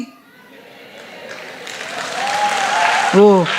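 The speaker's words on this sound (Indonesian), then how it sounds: "Para jomblowers seneng ini, dibela langsung tepuk tangan." Applause from an audience at a Christian sermon, swelling gradually into a broad wash of clapping under a speaker's voice.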